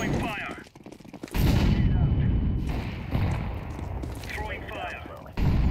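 An incendiary grenade goes off in Counter-Strike 2, with a sudden loud burst followed by sustained roaring fire and crackling, amid other gunfire.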